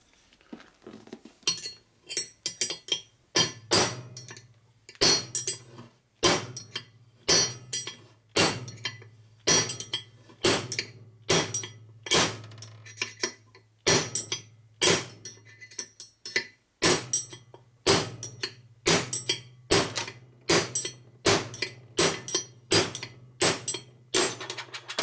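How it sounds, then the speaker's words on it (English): Sharp metallic clinks of a hammer striking a punch to drive the case races out of a 1983 Harley FXRT 80ci Shovelhead engine case, struck repeatedly in quick, uneven bursts, close and loud with brief pauses between volleys. "Punch and a hammer works good for that."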